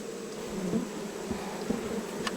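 Bees buzz steadily around a wild beehive in the jungle during honey gathering, a close, continuous drone with a few short louder passes and no voices.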